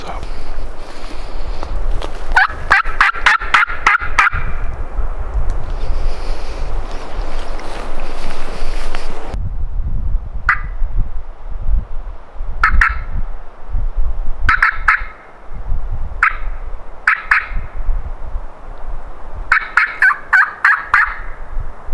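A Merriam's wild turkey in South Dakota gobbles in several loud rattling bursts, one quick cluster early and then repeated calls spaced a few seconds apart, over a steady outdoor rustle and occasional footsteps.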